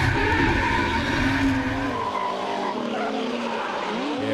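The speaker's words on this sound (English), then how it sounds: "Just listen to this 2J scream on the in-car as we go for a ride with Beau." A 2J-engined drift car screams at high revs from an in-car onboard view during a drift battle, with a loud, continuous wailing engine note and tire squeal that dips and rises as the car shifts.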